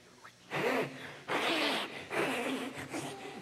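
An audience blows air hard without pursing their lips, as if at an imaginary candle. There are three or four breathy, hissing bursts at an arts showcase, close and fairly loud.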